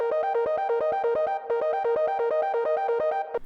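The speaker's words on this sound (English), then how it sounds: "we also have this ARP player coming in towards the end of this chorus" A simple Serum synth arpeggio with both oscillators playing, part of a pop rock chorus, repeats a fast, even pattern of bright plucked notes, steady and prominent on its own with a short break partway through.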